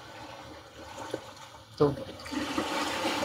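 After a short spoken word, a recorded ocean-wave sound plays through the speakers of a Geely EX5 electric car, building into a steady wash of surf noise.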